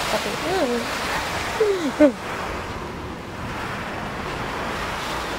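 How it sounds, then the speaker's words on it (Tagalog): Typhoon Kristine's wind and rain roar steadily outdoors in Bicol, Philippines, a constant broadband rush with people talking briefly over it. "Mas lalong lumalakas si Bagyong Christine."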